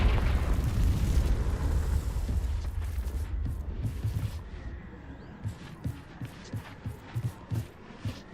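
The Confringo spell in the Hogwarts Legacy video game bursts with a loud, booming blast that rolls off into a fading rumble, followed by a few softer thuds.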